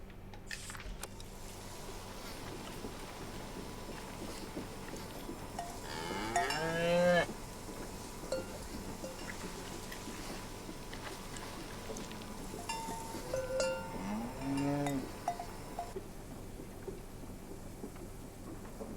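Cattle moo twice, a long low call midway and another later, over a steady clanking of cowbells and outdoor background noise.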